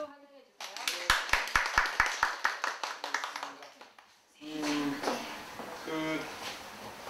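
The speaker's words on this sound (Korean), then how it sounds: "박수로 환영해 주세요." A hall audience at a Korean high school parent training session claps to welcome a guest speaker: a run of distinct, evenly spaced claps, then a pause, then someone starts talking over a lingering room murmur.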